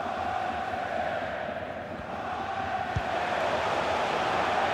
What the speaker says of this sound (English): Just listen to the crowd, Derek, urging their team on.